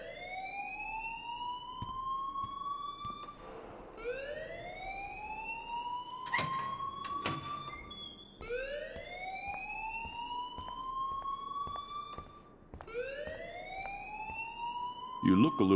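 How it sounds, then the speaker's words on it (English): A rising, wailing alarm sounds in the video game Life is Strange. It sweeps upward in repeated cycles of about four seconds, loud and steady, with faint background voices and clatter underneath. "please turn off that alarm since that's your job"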